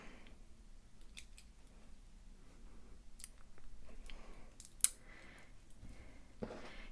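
Scissors snip the cord tails of a stretch bracelet, giving several quiet, close clicks and one sharper snip among faint handling noise.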